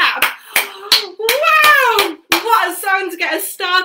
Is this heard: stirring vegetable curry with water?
no